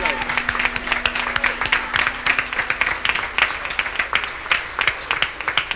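Audience applause at a live concert at La Trastienda, crisp individual claps rising and falling in bursts, fairly close, with a brief held tone early on.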